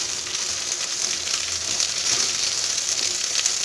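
Cooked sorrel greens hit hot sesame oil in a clay pot, giving a steady, bright hiss and crackle that runs continuously, heard close and fairly loud with no voices.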